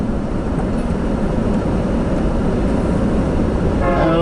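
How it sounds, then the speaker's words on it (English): A long freight train rumbles steadily past at close range, a continuous broadband roar of railcars with a faint horn-like tone rising near the end. "I think I just heard a train."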